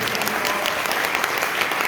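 An audience applauds a lecturer at a Carnegie chapter talk in a multipurpose hall, with a dense, steady wash of clapping that holds for about two seconds.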